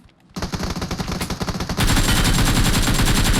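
Rapid automatic gunfire in PUBG Mobile, a loud dense burst of shots that grows into a continuous roar of fire.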